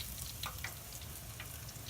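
Catfish fillets frying in hot grease around 375 degrees, a steady low bubbling roar with faint scattered crackles and pops, close by and continuous, no voices.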